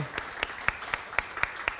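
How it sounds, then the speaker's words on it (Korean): A church congregation applauds in welcome during a Sunday service. Seven crisp, evenly spaced unison claps carry over a soft background. "우리 잘 오셨다고 환영의 박수 하겠습니다"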